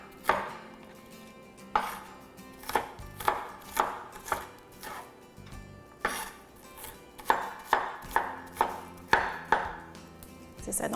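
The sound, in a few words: finely chopping vegetables with a knife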